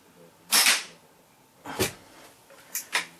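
Rifle shots from SFS rifles fired one at a time, each a sharp loud crack followed by a short decay, with three or four reports spaced irregularly across a few seconds, no talking.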